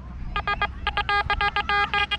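Target signal tones from a Quest X10 Pro metal detector sweeping near a lifeguard tower on a beach, a rapid series of short pulsed electronic beeps in uneven bursts, close and clear.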